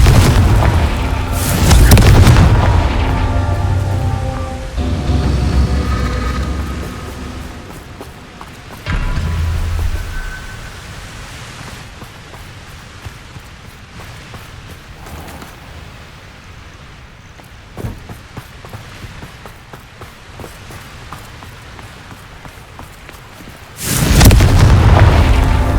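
Confringo spell explosions in the Hogwarts Legacy video game, several loud booming blasts spread apart, with rumbling debris and a final heavy burst, no talking.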